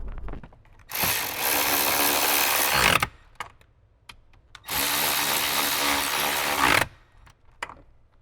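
A power tool runs in two loud bursts of about two seconds each, separated by quieter clicks and handling noise, while bolts are driven back into a Jeep JL airbag mounting.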